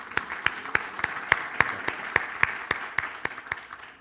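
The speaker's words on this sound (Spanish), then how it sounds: "Un gran aplauso, por favor," Applause at a Latin American HR conference panel on data protection, heard as sparse, evenly spaced individual claps with a regular beat, fairly faint and close.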